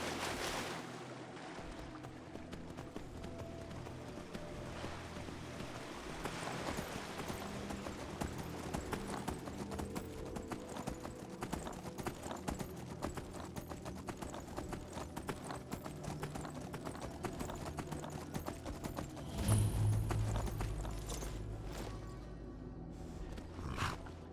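Steady rhythmic clip-clop of horse hooves at a trotting pace in Skyrim, continuous throughout, with a brief louder whoosh near the end.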